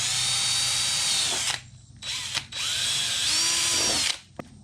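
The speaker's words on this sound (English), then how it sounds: "drill these two holes out with a 1/4 inch drill bit" A power drill fitted with a 1/4 inch bit bores holes for a kayak seat upgrade. The whine is loud and close and comes in three runs broken by short pauses, and the pitch sags as the bit bites.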